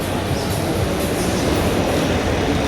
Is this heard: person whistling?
no